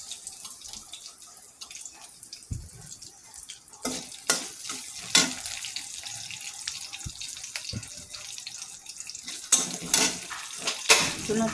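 Green chilli slices and potato frying in a home kitchen pan, with crackling sizzle, scraping stirs and sharp clatters of a utensil against the pan, fairly close, no talk.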